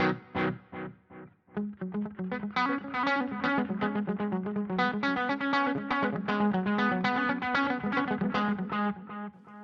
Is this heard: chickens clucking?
no